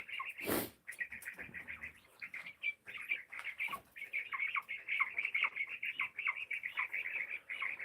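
A dense chorus of Easter egger chickens clucking and squawking continuously at night, close by, with a brief sharp rustle or flap near the start.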